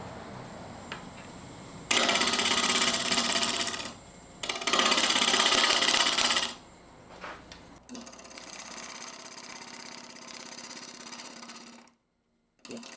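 Callery pear wood turning on a lathe held in large jaw chucks, a loud broadband whirring and cutting noise that comes in two strong bursts, then continues steadier and softer before stopping briefly near the end.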